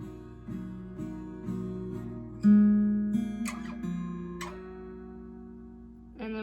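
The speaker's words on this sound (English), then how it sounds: "So all together, that's 6 down strums in that little lick," A guitar plays a short lick of six down strums on an acoustic-sounding instrument, clear and close, each strum ringing out with a longer held chord in the middle and a final strum at the end.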